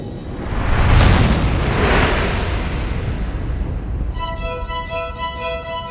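A deep, loud explosion boom standing in for the Big Bang swells and rumbles, then fades into a long rolling roar, with a bright sustained tonal shimmer entering near the end. No one speaks.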